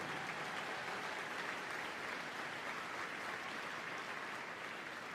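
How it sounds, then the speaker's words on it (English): Audience applause fills a Crufts Scruffts dog show arena as a finalist is announced, a dense, even wash of clapping from a large crowd, distant and steady throughout. "Give her a big round of applause,"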